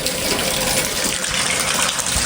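Rain falls steadily outdoors on a wet festival day, a dense, even hiss and wash that stays loud and close for the full stretch with no voices over it.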